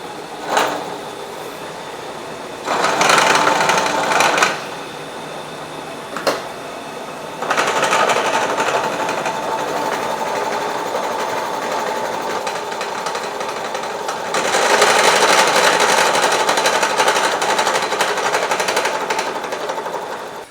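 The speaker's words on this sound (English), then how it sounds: "the 2 saw cut sides, I'm going to take a nice light skim cut" A metalworking machine takes a light skim cut across the saw-cut sides of a metal block, a steady mechanical drone and cutting noise that swells in louder stretches, close and with no talking.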